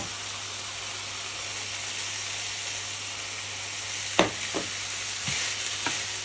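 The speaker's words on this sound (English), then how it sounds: "And you stir it in, sausage meat, to flavour it even more." Sausage meat frying in a pan gives a steady close sizzle, with a few sharp scrapes and knocks from stirring near the end.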